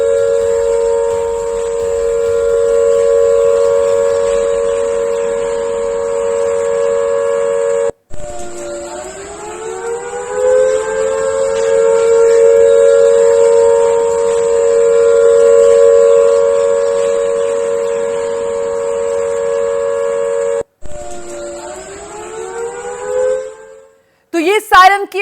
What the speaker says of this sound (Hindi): पहले जरा सुन लीजिए किस तरीके से सायरन बज रहे हैं।